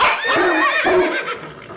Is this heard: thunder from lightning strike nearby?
no